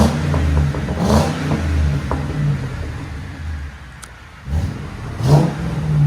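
A Ford Crown Victoria 4.6L V8 engine rumbles and revs nearby, swelling in a few surges over a steady low exhaust drone.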